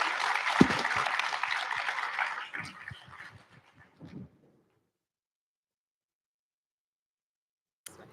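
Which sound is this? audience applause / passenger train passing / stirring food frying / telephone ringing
audience applause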